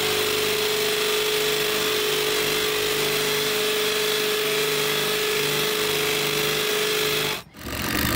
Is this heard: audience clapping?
no